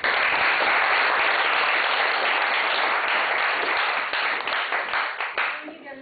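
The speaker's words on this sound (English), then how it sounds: "let's welcome Professor with a big round of applause" Warm applause from a lecture audience welcoming a professor to the podium, dense and loud at first, then thinning into scattered claps and fading out.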